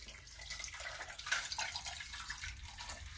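Water splashes steadily into a blender jar already loaded with fruit and ice, a close, continuous pouring wash heard alone.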